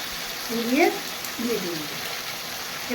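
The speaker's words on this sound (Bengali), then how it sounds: "এটাকে ভালো করে কষাবো কিছুক্ষণ" A spice paste of cumin and coriander powder with ginger paste sautés in a pan for a fish roe fritter curry, giving a soft, continuous sizzle beneath a speaking voice.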